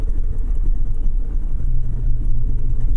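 A hydrogen-assisted truck engine runs with a loud low rumble that swells slightly as the throttle is pressed, close and steady with no talking.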